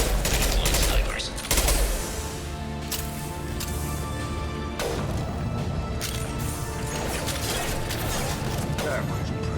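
Sniper rifle fire in the Mass Effect 2 video game: a series of loud, cracking shots with crashing impacts, the heaviest near the start, over a continuous dense battle din.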